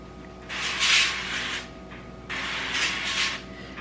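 Cooking oil spray hisses onto halved spaghetti squash in two close bursts of about a second each, separated by a short pause, with no talking over them.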